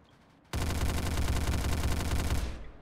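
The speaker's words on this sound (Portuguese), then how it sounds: "Testar agora que é M16, ver se ela é boazinha." Sustained automatic fire from an M16 rifle in a Roblox shooter, starting abruptly and running as a dense rapid burst for about two seconds before cutting off, loud and close.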